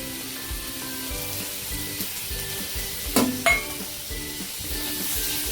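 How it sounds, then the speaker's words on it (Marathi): Chopped tomato drops into a pan of frying onion and spice masala for egg bhurji, giving a steady loud sizzle with a couple of brief clinks of a spoon against the pan. "आता हे जे टोमॅटो कट केलं ते टाकून घेऊया"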